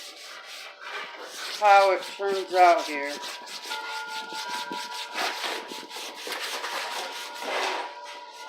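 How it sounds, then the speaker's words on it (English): Hand sanding rubs along a wooden walking stick in repeated strokes, with a person speaking briefly near the start and wind chimes ringing faintly behind. "Now I'm going to do some more sanding on this walking stick of mine,"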